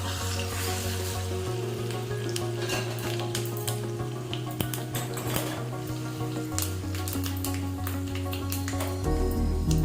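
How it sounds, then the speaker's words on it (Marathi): Turmeric, red chili, salt, nigella and fennel sizzling in hot oil for onion pickle, a steady close frying hiss with clinks of a metal utensil against the pan and a low hum. "तेल चांगलं गरम झालं की यामध्ये हळद, लाल तिखट, मीठ, कलोंजी आणि बडीशेप टाकून घ्यायची आपल्याला"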